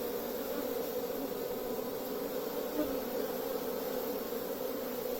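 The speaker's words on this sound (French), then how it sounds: "ici, c'est des abeilles qu'on a qui sont africanisées" Africanized honey bees buzzing around a wild swarm, a dense, steady drone of many wings close by that holds constant without a break.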